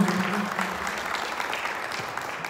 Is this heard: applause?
yes